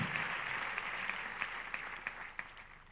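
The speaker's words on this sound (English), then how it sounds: "Another round of applause for him." Steady applause from a large audience at a university commencement ceremony, a dense wash of clapping that holds evenly for the whole stretch.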